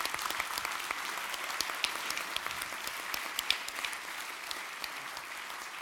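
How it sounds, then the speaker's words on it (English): A round of applause from a seated audience at a talk event, many hands clapping in a steady, moderately distant patter that holds evenly throughout with no voices over it. "So let's give him a big round of applause."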